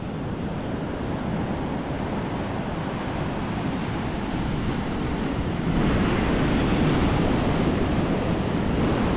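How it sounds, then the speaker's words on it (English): Heavy surf rolls onto Karon Beach in Phuket during monsoon season, a loud, continuous roar of breaking waves mixed with wind buffeting the microphone, swelling slightly partway through. "It's monsoon season, so the waves are pretty good out here."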